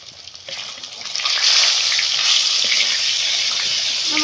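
Two pieces of fish fry in a pan in a home kitchen; after a quieter start the sizzle swells into a loud, bright, sustained hiss heard close, with no speech.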